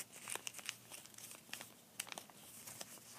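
Paper creased and folded by hand for an origami dragon, with soft crinkling and several sharper crackles spread through the clip, fairly faint and close with no talk.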